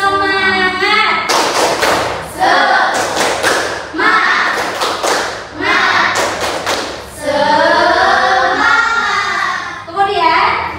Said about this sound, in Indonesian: mari kita tepuk semangat terlebih dahulu. 1, 2, 3, tepuk semangat.